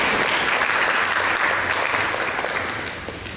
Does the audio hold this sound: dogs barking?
no